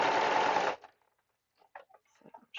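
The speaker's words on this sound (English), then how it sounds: "How's the sound with the sewing machine?" A sewing machine runs in a fast, steady whir for under a second, then stops, leaving faint scattered clicks and soft handling noises.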